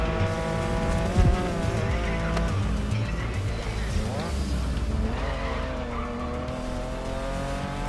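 In the racing video game GRID Legends, a car engine roars steadily while tires squeal and skid under braking, loud and continuous, with a voice talking over it.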